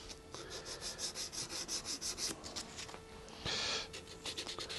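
A Dremel polishes the frets of a customer's guitar in quick rubbing passes, a rhythmic series of short abrasive strokes close by, with one louder sustained burst near the end.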